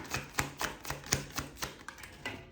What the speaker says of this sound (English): Let's get some more cards out here for you guys.